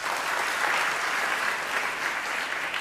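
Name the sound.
audience clapping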